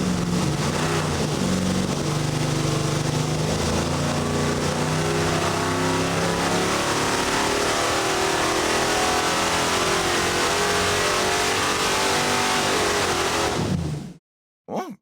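A V8 engine on a dyno, fitted with a single-plane versus dual-plane intake manifold, sweeps from 3000 to 5800 RPM. The loud, continuous rev climbs steadily in pitch for about fourteen seconds, then cuts off abruptly.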